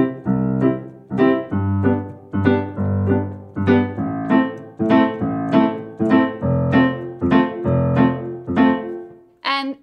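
Piano plays a bright, bouncy rhythmic accompaniment pattern, repeated chords struck in an even, lilting pulse, with steady low notes under them, close and clear with no talking.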